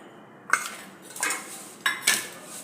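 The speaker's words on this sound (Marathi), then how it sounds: "आता याच्यात घालूया मुगाची डाळ मसूर डाळ" Moong and masoor dal tipped into a pan for dry roasting, giving a few separate metallic clinks and rattles with grainy pouring and scraping between them, fairly close and quiet, with no talking.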